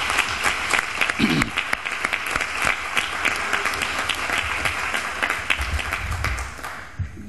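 An audience claps steadily for several seconds, a dense, even applause that tapers off near the end.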